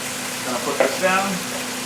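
Beef chunks brown in a stew pot with a soft, steady sizzle. A few quiet clinks and stirring noises rise briefly over the frying hiss.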